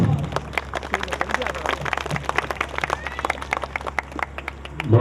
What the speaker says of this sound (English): So please welcome him with a round of applause.